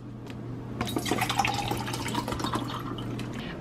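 Water poured or running from a tap in a home kitchen to fill a small child's drink, a soft continuous splashing and trickling stream under a low steady hum, fairly close and quiet, with no voices.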